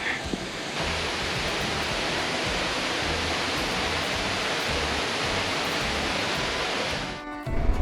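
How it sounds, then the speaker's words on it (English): A waterfall in the video game 7 Days to Die roars in a steady, dense rush of falling water, loud and unbroken for several seconds before cutting away. "Really neat waterfall."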